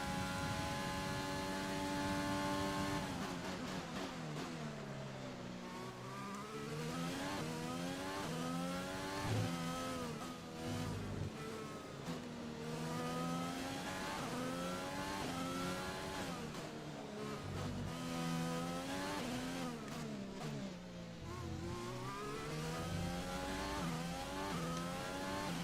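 An F1 car in the F1 2020 racing game drives a flying lap, its high-pitched engine wailing and sweeping up and down through gear changes, loud and continuous for the whole stretch.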